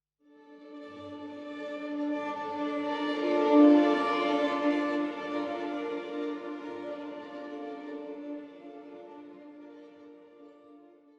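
Virtual orchestra high strings played in a traditional style: a soft ensemble swell that rises to a fuller peak then gradually fades, sustained and smooth, with no talking.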